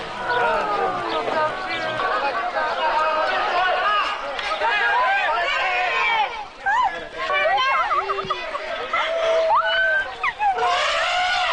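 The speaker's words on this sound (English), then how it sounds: "The crowd screams she's being electrocuted." A crowd screams and shouts in alarm as a female elephant touches a separating electric wire with her trunk and collapses. The voices are loud, close and continuous, rising and falling in excited, overlapping cries.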